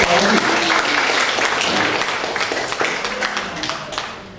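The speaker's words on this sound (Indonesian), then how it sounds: "Tepuk tangan dulu dong." A crowd applauds loudly from the start, the clapping thinning and fading toward the end.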